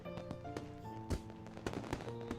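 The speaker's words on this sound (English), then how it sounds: "For minutes on end, Hanako and I watch the fireworks overhead, as Lily blissfully listens to them" Fireworks bursting overhead in the Katawa Shoujo video game, a quick string of sharp cracks and pops layered over a soft melodic music bed, fairly quiet overall.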